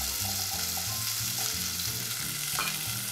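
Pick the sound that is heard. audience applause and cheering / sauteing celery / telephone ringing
sauteing celery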